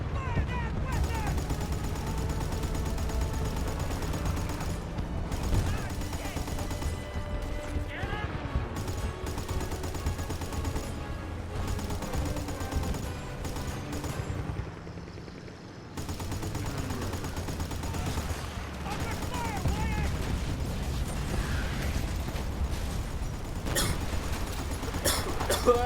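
Video game firefight with bursts of automatic weapon and machine gun fire, dense and continuous for most of the stretch, a brief lull midway, while voices shout over the shooting.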